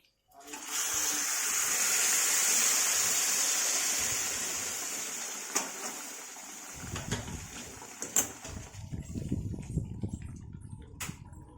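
Water gushes into a cooking pot holding a mix of five lentils for shipi aamti, a steady loud rush lasting several seconds that then tapers into softer sloshing and clinks.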